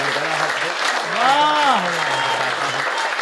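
Audience clapping at a Hindi kavi sammelan poetry recital, a broad steady wash of applause from a large crowd lasting throughout, with a voice talking or chanting over it.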